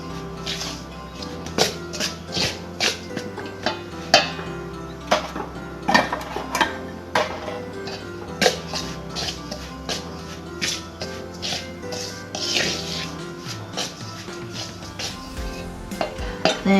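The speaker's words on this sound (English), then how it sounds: "Then I will add my grated coconut. Mix this in also." Grated coconut is mixed into a coconut bun mixture in a bowl, with frequent light clinks and scrapes of a utensil against the dish over a soft background.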